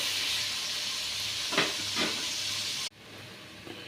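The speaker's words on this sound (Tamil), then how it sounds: "கொஞ்சம் லைட்டாக ஆனியன் ரோஸ்ட் ஆகும் லைட்டாக" Onions roasting lightly with salt in a pan for podi idli, a steady close hiss and sizzle with a couple of brief stirring scrapes, cut off abruptly near the end by a quieter, softer sizzle.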